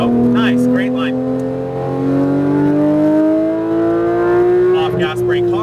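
A Porsche 991 GT3 RS engine pulls hard at full power on a race track, a loud rising tone that climbs steadily before a gear change, with an instructor's voice talking over it.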